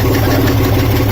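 A large engine fitted to a Caracruiser boat runs after receiving a new ignition barrel, somewhat sluggish at low RPM. It makes a brief, loud, close, steady idling rumble with no voices.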